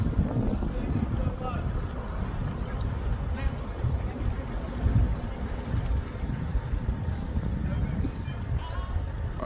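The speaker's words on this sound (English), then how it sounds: "Kai Kills, that's why I say windy day in the harbor." Steady wind gusts across a boat harbor marina, a continuous low rumble with the faint creak and slap of boats nearby.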